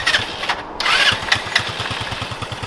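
A Yerf Dog Spiderbox go-kart engine sputters into life close by, then settles into a rapid, even, loud putter of pulsing combustion beats.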